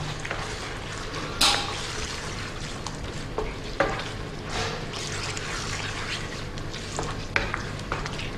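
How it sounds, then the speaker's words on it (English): Chicken tikka masala curry being stirred in a pan, finished with chopped coriander and spring onion: a steady low simmering bubble with scattered scraping clinks of a spoon, a sharper clatter near the start. "Give that a stir."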